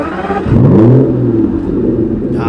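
A 2014 Aston Martin V12 Vanquish fires up: a short starter whir, then a deep V12 exhaust bark that rises in a quick rev before settling into a low, rumbling idle, close and loud.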